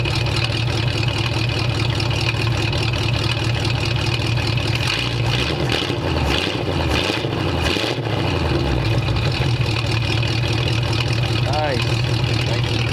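A 1929 Ford Roadster pickup engine fitted with a new exhaust runs steadily with a mellow, loud idle and a brief rise in revs midway, with voices talking over it.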